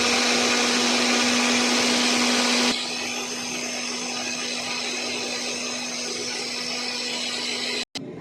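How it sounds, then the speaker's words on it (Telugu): A mixer grinder blends a mango ice cream mixture, a loud, steady whirring motor that runs alone for most of the clip, its pitch dropping a little after a few seconds, then cutting off abruptly near the end. "ఇప్పుడు దీన్ని మనం మిక్స్ పెట్టుకోవాలి మొత్తం"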